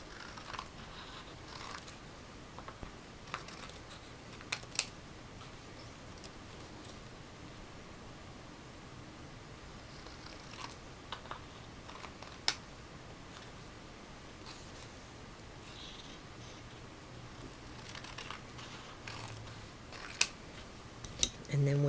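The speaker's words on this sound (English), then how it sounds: "And then from the back, cut off all the strips to be even" Scissors cutting strips of paper for a herringbone card background, a series of short, faint snips scattered over a quiet room hush.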